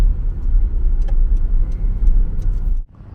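A car rolls in and parks in a car park, its steady mid-range engine hum running close and fairly loud for nearly three seconds before cutting off abruptly into quiet.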